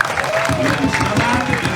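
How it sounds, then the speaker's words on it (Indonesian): Audience clapping at a traditional Javanese kuda kepang horse-dance performance in Solok, West Sumatra, a steady dense applause with crowd noise throughout, fairly loud and continuous. "Supaya semangat, kita kasih tepuk tangan yang meriah dulu"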